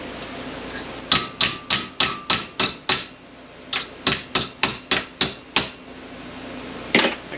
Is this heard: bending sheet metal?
yes